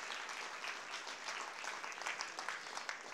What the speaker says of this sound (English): Give a round of applause for this young lady.